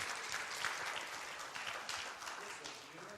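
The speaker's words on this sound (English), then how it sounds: "let's have a round of applause for our technical guy." A church congregation applauds its technical helper, a steady wash of clapping from a roomful of people at moderate distance, continuous throughout with a faint voice or two underneath.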